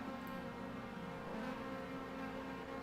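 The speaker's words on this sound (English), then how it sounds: "Revs are rising." A race car engine in an online oval racing game hums and rises steadily in pitch as revs build before the start, a continuous moderate drone without speech.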